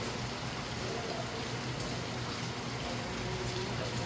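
Heavy rain pours down steadily and loudly for the whole stretch, a dense, continuous hiss with no pauses and no voices over it.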